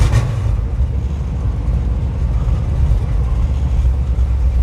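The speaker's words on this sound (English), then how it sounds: "Let's see if this will start now. It's got a bad hesitation in it too." A 1977 Chevy Monte Carlo engine with a bad hesitation idles roughly, a loud low uneven rumble that holds steady for several seconds after a short burst at the start.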